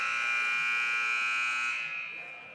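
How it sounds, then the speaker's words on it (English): A loud electronic buzzer in a school gym during a basketball tournament game, a single sustained steady tone that holds strong and then trails off at the end. "the buzzer in this gym is loud"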